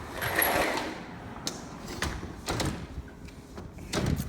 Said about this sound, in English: I'm gonna go ahead and close this door.